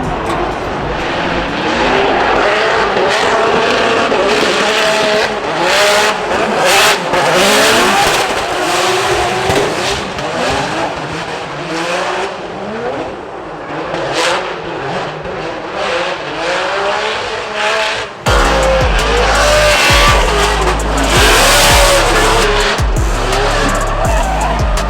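A 2JZ-engined BMW E36 drift car battling at Formula Drift Long Beach, with sustained loud tire squeal over a high-revving engine roar that wavers through shifts and builds to a heavier close pass near the end.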